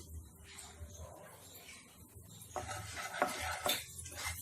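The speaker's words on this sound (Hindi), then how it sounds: "ये हमारा तेल गरम हो गया है। इसमें हमने 1/4 टीस्पून हींग डाला है, हाफ टी स्पून जीरा।" Asafoetida and cumin seeds dropped into hot oil for Mumbai masala toast filling, a soft, quiet crackle that grows busier halfway through, with faint clinks and stirring sounds near the pan.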